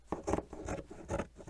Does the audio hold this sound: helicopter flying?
no